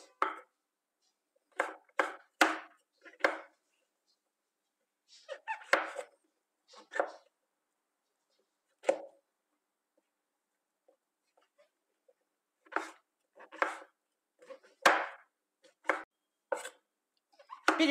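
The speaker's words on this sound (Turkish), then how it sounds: "Bütün mantarlarımı böyle ufakça doğrayacağım." Sharp knife strokes on a cutting board come in quick clusters separated by pauses, close and crisp, as mushrooms are chopped.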